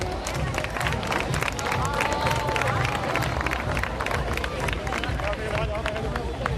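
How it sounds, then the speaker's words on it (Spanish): Applause and crowd noise fill a hall at a town festival's opening proclamation night, dense and steady throughout, with scattered cheers mixed in as the audience welcomes the speaker. "un fuerte aplauso para él."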